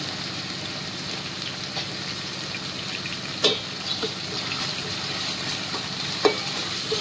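Onion and ginger paste fries in a pan with a steady, close sizzle, broken by occasional soft scrapes and clicks of stirring.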